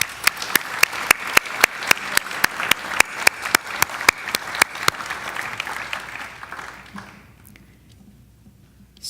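Audience applause at a youth human rights awards ceremony, a steady run of claps that tapers off near the end, with no voices.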